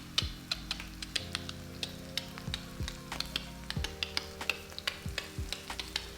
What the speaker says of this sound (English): Mark, you can get nice shots of frying onions and spices.